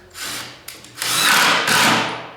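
A power drill drives a short drywall screw, about 1 5/8 inches, into wood while a vintage headboard becomes a bench. A brief whir and a couple of clicks come first, then a long loud motor whine with a short dip.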